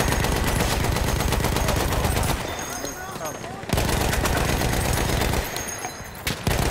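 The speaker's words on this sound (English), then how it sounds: "Oh, I'm gunning them down!" Battlefield 1 machine-gun fire rattles in loud, rapid, sustained bursts with two short pauses between them. Heavy battle noise and a voice sit underneath.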